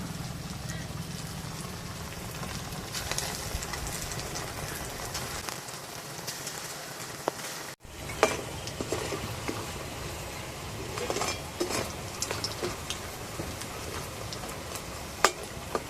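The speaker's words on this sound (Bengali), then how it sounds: "একইভাবে বাকিগুলো ভেজে নেব" Chicken pakoras crackle and hiss as they fry in hot oil, a steady dense sizzle running throughout with a brief drop partway, and a voice speaking occasionally over it.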